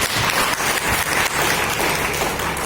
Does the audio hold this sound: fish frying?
no